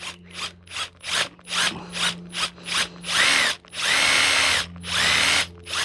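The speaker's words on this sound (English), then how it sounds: "just drill that in, not all the way" Power drill driving a self-drilling screw into the metal top of a Hills Hoist clothesline, a run of short ratcheting bursts followed by three longer, louder whirring spins, close up and with no voices.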